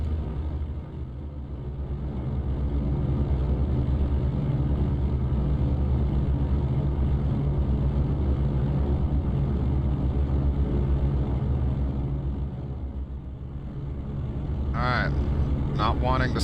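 Steady, fairly loud engine drone of a Goose aircraft coming in to land in X-Plane 11, with a low rumble that holds level throughout and a voice briefly near the end.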